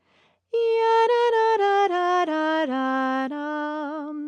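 A sustained melodic line in Phrygian tonality played on a bright, reedy-toned instrument, stepping down through distinct held notes after a brief quiet start, each note clear and even in loudness.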